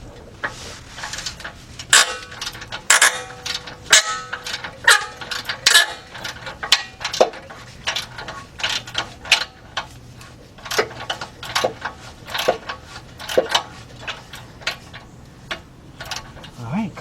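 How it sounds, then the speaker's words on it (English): A 3/8-inch drive ratchet fitted with a 1/2-to-3/8 reducer clicks in repeated bursts of close, sharp pawl ticks while loosening a part during engine removal on a 2006 Kia Sportage 2.7, with intermittent metallic knocks. "I got my 3/8 drive ratchet with my reduced 1/2-inch to 3/8 drive"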